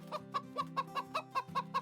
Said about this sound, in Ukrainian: Подивіться, це курочки та півники.